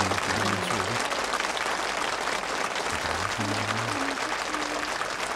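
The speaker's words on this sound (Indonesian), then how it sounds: "Semuanya tepuk tangan." A church gathering claps together in a steady, even round of applause, with a few low voices murmuring underneath.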